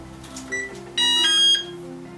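A Texecom Veritas alarm panel beeps on reset, a short series of electronic beeps ending in one longer, louder tone, over a low background hum.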